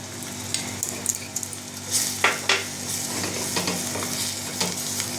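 Kasuri methi and Kashmiri red chili powder fry in hot oil for a Bengali-style mutton tarka, giving a soft continuous sizzle broken by a few sharp stirring scrapes and clinks of a spoon against the pan.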